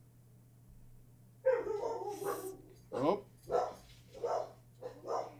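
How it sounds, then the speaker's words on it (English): Dogs in The Legend of Dragoon video game bark in a run of five or six loud, evenly spaced yaps that start abruptly after a quiet stretch, with a low electronic hum beneath and a brief spoken exclamation. "What are you barking at?"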